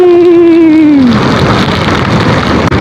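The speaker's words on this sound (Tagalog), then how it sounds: "Bagyo na to." Loud, steady rain pours down in a storm in Taiwan, a dense hiss of downpour filling the scene after a brief tonal sound fades out at the start.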